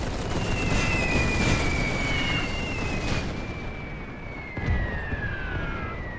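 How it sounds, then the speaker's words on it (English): Machine guns opening fire in the strategy game The Great War 6.0 during a German battle at Sicily, heard as a dense continuous rumble of distant gunfire and blasts with a long whistling tone gliding downward across it. "Oh, they're opening fire now."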